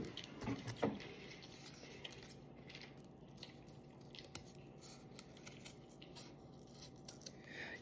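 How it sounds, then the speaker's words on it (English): Scissors snipping through a craft Disney-style mouse ear, a few quiet close cuts early on, followed by soft rustling and faint handling of the material with no talking. "I'm gonna cut it a little straight at the bottom, like the real Disney ears."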